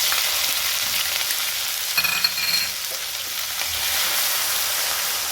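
Ginger, chili and garlic sizzle steadily in hot oil for a Gujarati vagharelo rotlo tempering with curry leaves, a dense, close frying hiss with a brief stir-like clatter midway and no talking.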